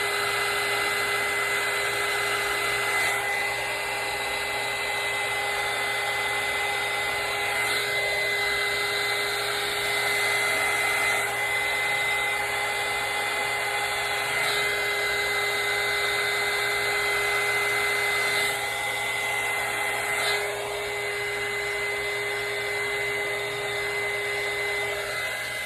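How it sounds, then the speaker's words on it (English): A crafting heat gun blows hot air in a long, steady whirring drone with a constant motor whine, close and loud, shifting slightly every few seconds as it is moved over paint, no talking. "use your crafting gun"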